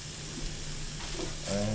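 Chopped onion stirred through hot oil in a pan for Greek tourlou, a soft continuous sizzle with faint scraping, close but fairly quiet, a brief heavier clatter near the end.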